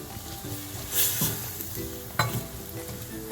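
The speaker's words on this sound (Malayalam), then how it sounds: "ഇതിലേക്ക് നമുക്ക് ഒരു 1/4 കപ്പ് വെള്ളം ഒഴിക്കാം." A quarter cup of water goes into chicken masala cooking in a pan for a whole roast chicken, bringing a burst of hissing sizzle amid close stirring, spoon scrapes and faint clinks, with no talking.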